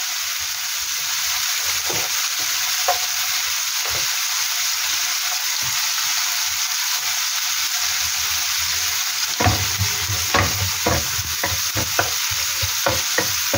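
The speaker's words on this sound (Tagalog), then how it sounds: "ang bango talaga ng sibuyas pag hinigisa" Sliced onions sauté in a pan for a sotanghon stir-fry, giving a continuous soft sizzle, with sparse stirring clinks early and a louder burst of sizzling and repeated spatula scrapes near the end.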